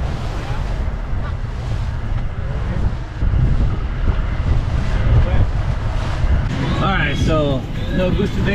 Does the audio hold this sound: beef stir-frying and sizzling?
no